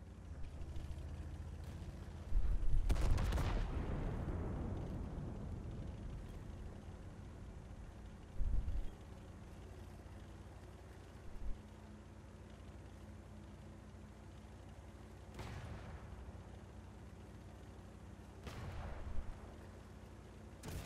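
Tank guns firing in an online tank battle game: a heavy boom with a long rumbling decay, followed by a few more distant shots and thuds over a low engine drone.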